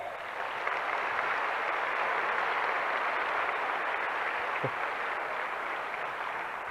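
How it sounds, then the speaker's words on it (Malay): Sustained applause from an audience at an Amway Diamond recognition ceremony, a steady wash of many hands clapping at even loudness throughout, with no talk over it. "kita beri tepukan pada kawan-kawan kita yang berdiri di sana"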